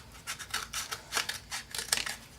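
Scissors snip white paper for a snowman ornament, a quick series of crisp close cuts in uneven bursts, quiet and with no voices.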